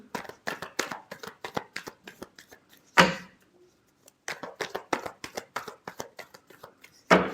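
Tarot cards being shuffled by hand, close and crisp, with rapid bursts of riffling and flicking broken by a brief pause and a few sharp slaps.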